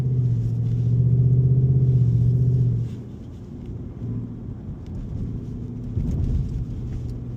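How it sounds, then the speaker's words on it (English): A 2025 Ford Mustang GT driving at night, its engine giving a steady low rumble that drops after a few seconds and then swells again in a closer, heavier surge, no talk. "We driving the Mustang GT, man."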